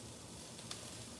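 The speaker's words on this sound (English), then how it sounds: "Onions and peppers and celery sauteing" Onions, peppers and celery sautéing in a pan for jambalaya give a steady, even sizzle with a faint stir near the end, close and alone.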